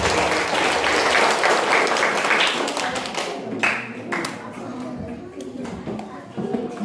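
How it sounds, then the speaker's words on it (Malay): A crowd at a Quran memorization competition claps loudly for several seconds, the applause gradually thinning into scattered claps, with some voices mixed in underneath. "Cukup, tepuk tangan."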